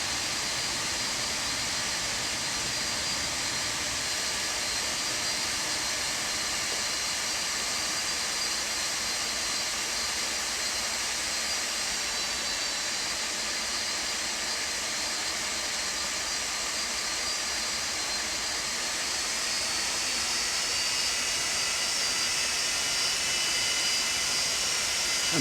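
Steady, loud jet engine roar from an airliner in a flight simulator, a continuous high whine and broadband rush that holds unchanged for the whole stretch with no talk.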